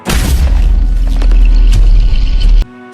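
A sleepy volcano's big rumble in a children's dinosaur story, rendered as a loud, deep, booming sound effect that holds for over two seconds and then cuts off abruptly.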